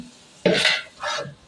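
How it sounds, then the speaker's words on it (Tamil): Two distinct stirring strokes as curd is worked into rice in a pot, each a soft wet scrape with a brief clatter, the first sharper and louder, set against near silence. "தயிர் ஊற்றி நல்லா கிண்டிக்கோங்க."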